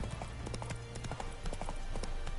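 The horse Roach trots with a steady, close run of hoof clip-clops on the ground, kept up through the whole stretch with little else over it.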